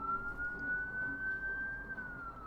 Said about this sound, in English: Sorry about the sirens, I can't help it